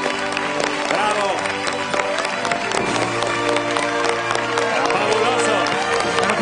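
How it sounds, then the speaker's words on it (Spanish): A TV studio audience claps and cheers loudly for two young artists after a giant chameleon piece, sustained dense applause with crowd whoops and a host's voice calling out over it. "¡Bravo, chicas! Un aplauso para ellas"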